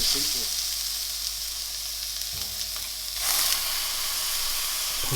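A beef patty sizzles and fries in a hot greased pan for a Big Mac-style burger, a steady close crackling hiss that swells slightly partway through.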